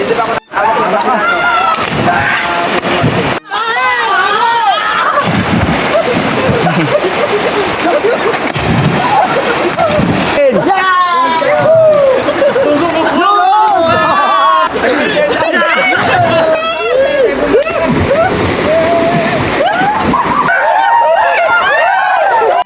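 People splash and play in the water while swimming in a river, with loud, busy voices chattering and shouting over continuous splashing close by.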